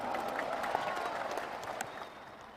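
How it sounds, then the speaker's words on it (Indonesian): A crowd at a political rally applauds continuously, dense clapping that holds steady and then tapers slightly toward the end. "Kita berikan tepuk tangan untuk itu."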